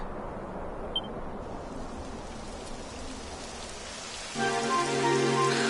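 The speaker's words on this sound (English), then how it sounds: "It would have to go and start raining, wouldn't it?" Soft steady patter of rain in the video game Dragon Quest XI, then a brighter hum rises near the end as the rainfall continues.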